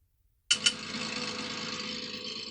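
Car engine in the Real Racing mobile game played on a phone, starting abruptly after a moment of silence with two quick revs, then settling into a steady buzzing drone.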